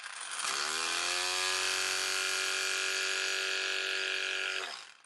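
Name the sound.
12V electric car impact wrench running unloaded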